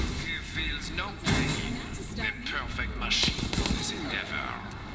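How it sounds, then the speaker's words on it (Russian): Gunshots fire in the Resident Evil Resistance video game as Jill faces a Tyrant: several sharp bangs punctuate the game sounds while a player talks over them. "Четыре выстрела всадил, зачем?"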